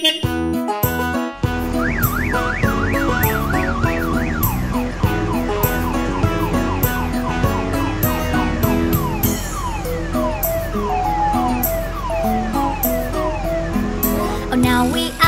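Cartoon police car siren in a children's nursery rhyme song, a rising and falling wail repeating over bright music with singing throughout.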